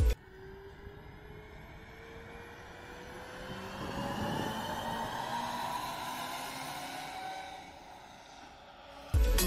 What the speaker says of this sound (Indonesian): Seperti ini bunyi mesin e-Actros dari luar kabin.